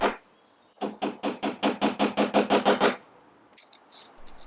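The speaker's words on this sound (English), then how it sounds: "then I just put some nails through to make sure they wouldn't move" A rapid run of about fourteen evenly spaced hammer blows drives nails into a wooden bedside table, loud and close, with a single sharp strike at the very start and a few faint clinks after.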